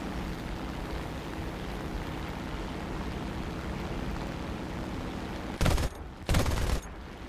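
Two short, loud bursts of 20mm cannon fire from an Arado 196 A-3 seaplane in War Thunder, cutting through a steady engine drone near the end.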